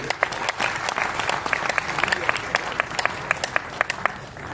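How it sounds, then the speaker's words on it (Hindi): At a Holi comic poetry gathering, an audience claps for a guest, a moderate round of applause with distinct individual claps standing out sharply over the steady patter. "एक बार तालियां बजा दीजिए हमारे अतिथि के लिए"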